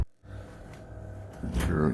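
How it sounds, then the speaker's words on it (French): A door slams shut inside a house with a short, heavy bang at the start, followed by muffled room noise and another louder thump toward the end. "My door just slammed again."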